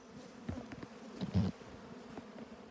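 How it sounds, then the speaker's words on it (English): Many honeybees buzz around an open colony after light smoking, a dense close hum with individual bees zipping past louder near the middle, with no talking. "Have you ever seen so many bees?"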